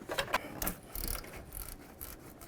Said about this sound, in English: get our 13mm wrench on there to get the nut off